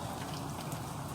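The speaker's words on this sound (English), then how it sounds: "This morning, it's been raining all morning." Steady rain falling outside in the morning, a dense continuous hiss of drops with no breaks, fairly close and even in loudness throughout.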